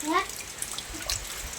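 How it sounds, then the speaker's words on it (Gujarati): Steady hiss of falling rain, wet and continuous, with a brief voice at the start. "વરસાદ છે ચાલુ અત્યારે"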